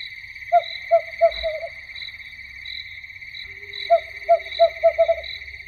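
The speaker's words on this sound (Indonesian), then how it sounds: "suara burung malam dan jangkrik mulai bersahutan" Night birds hoot in short rhythmic bursts of four to five calls against a constant high drone of crickets, a still, eerie nighttime chorus with no voices.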